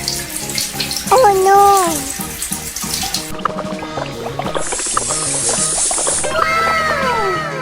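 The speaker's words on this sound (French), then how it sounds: "Bonbon court vers la salle de bain et ouvre le robinet à fond pour éteindre le feu" Cartoon bathroom tap opened full blast, a loud rushing gush of water pouring steadily, mixed with animated voices exclaiming and chirpy cartoon sound effects.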